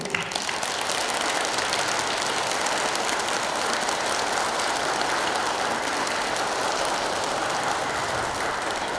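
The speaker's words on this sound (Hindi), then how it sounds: "तालियां तो रुक ही नहीं रही है।" A large audience at a national workers' camp in Pune keeps up sustained, dense applause, a steady wash of clapping with no pause and no talk over it.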